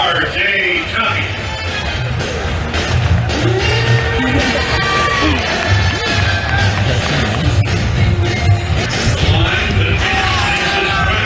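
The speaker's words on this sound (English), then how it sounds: "It was completely just an adrenaline-filled crowd out there at Dodge River Ballpark" A baseball crowd at Dodge River Ballpark during a RoughRiders game yells, whoops and cheers continuously with a loud, dense roar, and individual shouts rise over it.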